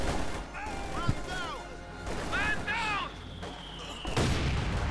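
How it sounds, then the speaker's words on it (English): Mortar fire in the World War II strategy game Company of Heroes 2, several distant booms and crashes with whistling shells, mixed with battle noise under a commentator's voice. "Mortar fire there."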